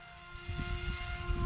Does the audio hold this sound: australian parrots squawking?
no